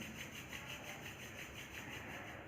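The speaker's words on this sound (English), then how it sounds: "Now slowly rub your hands." Palms rub together slowly during a yoga session, a soft continuous dry swishing with faint rhythmic strokes, close and quiet, with no voices.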